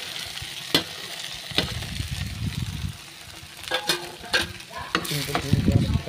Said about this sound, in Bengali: 3টে ডিম দিয়ে একটু ভাজা ভাজা করে নেবো।